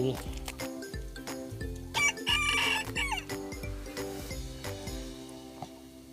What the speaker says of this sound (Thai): ไก่ไข่ประมาณสิบตัว